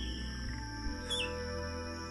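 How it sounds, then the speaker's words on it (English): Fulvetta and babbler calls come from a rainforest in southwestern Guangxi: one brief bright chirp sounds over a steady layered hum of insects and distant birdsong, with no voices. "The calls of the fulvetta and babbler are like a duet at a concert, echoing each other harmoniously."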